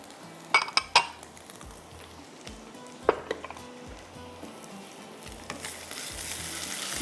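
Cabbage, capsicum, onion and carrot fry in an oiled pan with a steady soft sizzle, a few sharp utensil clinks and scrapes near the start and around three seconds, the hiss brightening toward the end.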